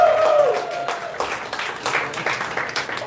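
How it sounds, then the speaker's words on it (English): Audience at a comedy showcase in a wine bar breaks into applause, a crowd of clapping hands under a faint voice and a brief tone at the start, fading slightly toward the end. "Let's give a round of applause for Vino Veritas"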